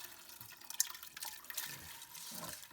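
Chicken broth pours into a pot of lentil soup, a soft, quiet watery splashing and trickling with a few small drips, steady and close throughout.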